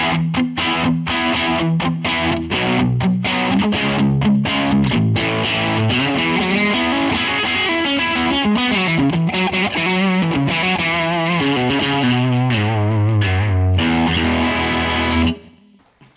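A thick, gritty distorted electric guitar tone from a Line 6 Helix chugs through a steady rhythm part, loud and sustained, ending abruptly.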